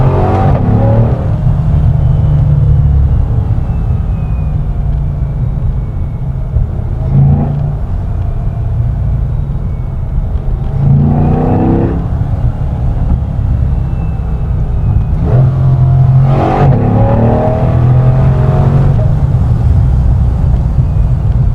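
A C8 Corvette engine rumbles loud and close, swelling in repeated bursts of acceleration and revving over a steady low drone, with no talk.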